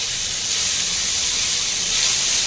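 Ground pirandai (veldt grape) paste goes into hot oil already tempered with mustard seeds and curry leaves, giving a loud, close, continuous hiss and sizzle that holds steady throughout.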